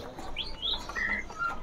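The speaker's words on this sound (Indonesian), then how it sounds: "Di sini ada kacer." Kacer birds (magpie-robins) chirp and whistle in a bird shop, several bright short calls scattered over a steady noisy background with no talking.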